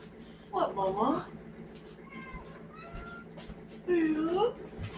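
A house cat gives two clear, drawn-out meows, one near the start and one near the end, with fainter chirpy calls in between over a low room hum.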